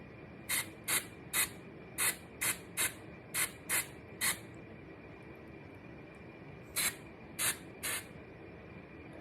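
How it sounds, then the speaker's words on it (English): Short hissing bursts of root-color aerosol spray aimed at a wig, a run of about eight quick puffs, a pause, then three more, close and crisp against a quiet room. "Now I'm going to let that sit for a minute while I spray a little bit up here."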